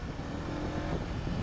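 Honda CBR 500R motorcycle engine pulling hard as the throttle opens, a dense, loud, continuous rumble close by, alone without speech.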